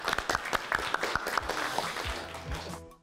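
Applause from a full hall at a Russian district quiz-game contest, dense continuous clapping close and loud for about three seconds, then cutting off abruptly.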